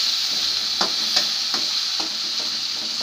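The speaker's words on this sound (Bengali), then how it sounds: "নাড়াচাড়া ভালো করে চলছে।" Onion and garlic frying in oil for a mustard greens dish, stirred with a spatula: a constant bright sizzle with several soft scraping strokes spaced about half a second apart, no voices.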